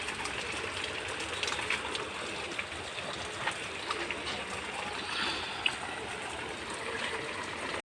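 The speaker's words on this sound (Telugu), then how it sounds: "అలా పడుతుంటాయి చూడండి నీళ్ళు" Water drips and patters steadily through a garden covering of netting over pumpkin vines and mulberries, a continuous soft rain-like hiss with scattered louder drops and no talk.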